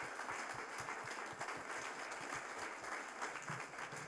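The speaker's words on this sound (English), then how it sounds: "Can we please give them a massive round of applause?" Audience applause at a refugee entrepreneur pitch night and demo day, a dense, steady wash of many hands clapping that continues throughout without voices.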